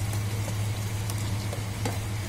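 Chopped tomatoes hit sautéing onions in a hot pan and give a steady close sizzle and crackle with a low hum underneath, without any talking.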